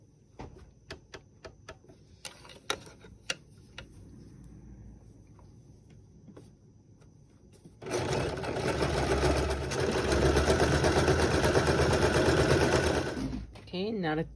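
A sewing machine stitching a zigzag seam on stretch velvet: a few separate clicks and needle taps first, then a loud, steady mechanical whir running for several seconds before stopping abruptly.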